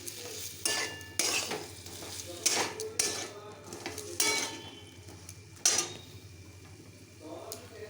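Soybean and potato curry with curry leaves and a splash of water is stirred and sautéed in a pan, with repeated scraping strokes and utensil clinks over a steady low hum at close range.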